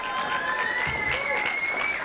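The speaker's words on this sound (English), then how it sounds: "Yeah, round of applause for yourselves." Audience applause at an awards show for indie film, a steady wash of clapping from a crowd, fairly faint and continuous, with a voice faintly audible over it.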